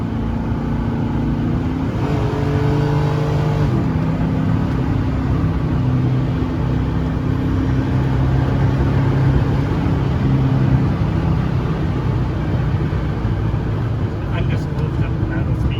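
A 1982 GMC LS Squarebody truck cruises along with a steady, loud engine drone under constant road and wind noise, with a brief shift in engine note early on and the hum continuing unbroken to the end.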